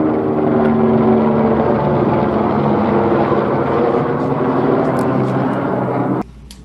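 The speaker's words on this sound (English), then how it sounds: "Helicopter flying overhead," Helicopter passing directly overhead, a loud steady rotor drone with low throbbing tones that holds for about six seconds before cutting off abruptly.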